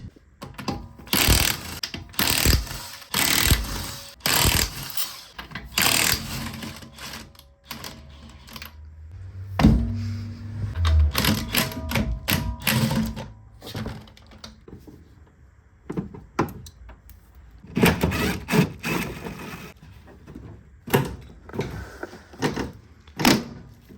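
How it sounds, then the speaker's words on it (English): The front bumper is pulled off a crashed Mercedes-AMG CLA45s, producing an irregular series of close plastic clunks, clicks, knocks and rattles with brief quiet gaps. "Let's take the bumper off now."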